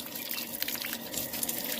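Water gushes steadily from a borewell pipe driven by a motor pump, a 66-foot tube well in Murshidabad. The rushing, splashing flow is continuous and fairly faint, with no talk.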